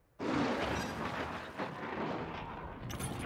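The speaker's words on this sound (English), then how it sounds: "Friendly cruise missile deployed." Cruise missile strike in the video game Modern Warfare 3, a sudden heavy blast that erupts and then rolls on as a loud, sustained rumbling explosion.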